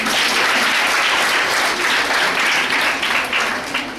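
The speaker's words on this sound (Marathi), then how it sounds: "टाळ्या वाजले." Loud, sustained audience applause at a resolution-approval meeting held in a hostel hall, many hands clapping close and continuously for several seconds with no speech over it.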